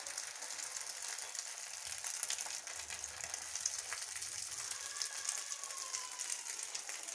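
An egg frying in a pan at home sends up a steady, soft sizzle and crackle that carries on without a break. The sound stays at a fairly low level with no voices over it.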